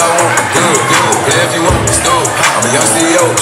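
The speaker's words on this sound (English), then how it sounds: "And now a special round of applause for the best man and maid of honor." Wedding guests at Brick & Ivey Event Venue in Marietta, GA applaud and cheer for the best man and maid of honor, a loud, steady wash of clapping and crowd noise with scattered whoops throughout.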